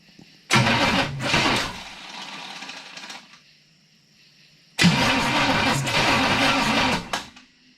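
A Chevrolet Malibu engine with WD-40 in the cylinders cranks in two long bursts, the starter churning loudly and unevenly as the engine tries to fire, with a quiet pause between attempts.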